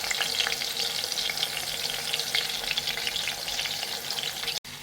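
Steady, dense sizzling of chicken frying in a cooker, loud and continuous throughout with a brief dip near the end.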